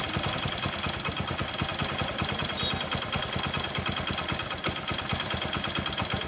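Up close, the idling engine of a motorcycle with a worn timing chain keeps a fast, even mechanical ticking, almost like a sewing machine, steady and uninterrupted with no voices.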